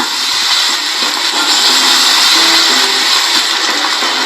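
Battered fresh Aralia shoots deep-frying in hot oil, a loud, steady crackling sizzle that holds evenly from start to finish with no voices.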